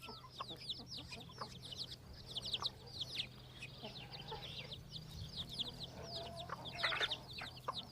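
A hen leads her chicks around a farmyard, where high peeping chirps and soft clucking come in busy overlapping bursts, with a low steady hum beneath.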